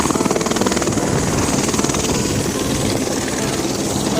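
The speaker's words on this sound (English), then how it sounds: "Finished with the helicopter tour." Tour helicopter flying over Kaua'i island, Hawaii, with steady loud rotor chop and engine whine filling the whole stretch, close and continuous with no talking.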